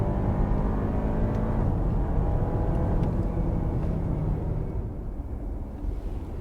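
Audi Q5 Sportback launching hard from a standstill on a slight uphill, engine roaring loud and steady with gearshifts as it accelerates, then easing slightly near the end; no talk.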